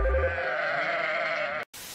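One long wavering sheep bleat, loud and close, held for over a second before cutting off abruptly, followed by a quiet background.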